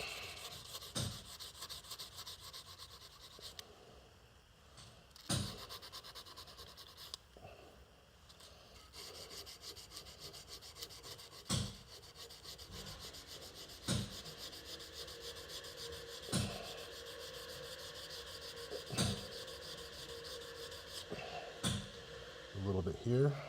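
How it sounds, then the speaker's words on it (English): Steady scraping and rubbing of a hard-backed 220-grit sanding stick against a steel knife blade, a continuous rasp with occasional sharper strokes, close and fairly quiet. "I'm going to use this slightly smaller sanding stick with a fairly hard backing, starting at 220."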